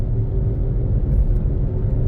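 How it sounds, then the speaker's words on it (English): A badly worn, noisy car wheel bearing gives a loud, steady low droning rumble that holds unbroken throughout while the car drives. "Now we got to find out about that wheel bearing. That is really bad. It's really noisy."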